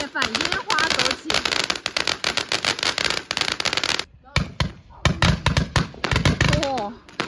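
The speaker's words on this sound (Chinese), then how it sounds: "年夜饭烟花走起" Lunar New Year's Eve fireworks go off close by in loud, rapid crackling volleys with whistling streaks, a brief gap, then more dense bursts, with voices reacting underneath.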